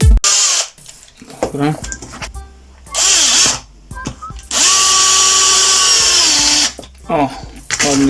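A small power drill with a small bit whines in bursts drilling pressure-treated wood, spinning up and down with pauses and some clicking and handling noise between runs.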